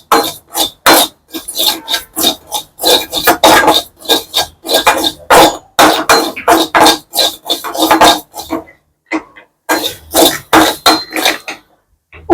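Poppy seeds are dry-fried in a pan with a steady, close rhythm of scraping and clinking as a utensil stirs them against the metal, with short pauses between strokes.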